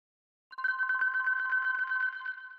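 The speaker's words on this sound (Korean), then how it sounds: "핸드폰이 울립니다." A mobile phone rings with a steady electronic ringtone warbling in repeated rapid pulses, starting abruptly after a brief silence, clear and alone with no voices.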